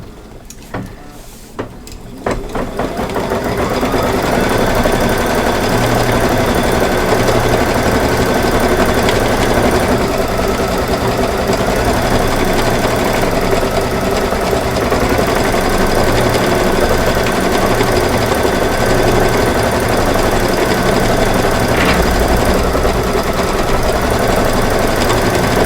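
An embroidery machine stitches a Halloween quilt panel, starting up after a few seconds into a loud, steady, rapid mechanical whirring and clatter that continues unbroken, near and with no talking.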